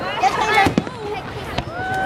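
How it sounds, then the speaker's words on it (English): Backyard fireworks popping with sharp cracks near 0.7 and 1.6 seconds, heard amid people talking and shouting nearby. "I'm gonna try to get some fireworks first of all."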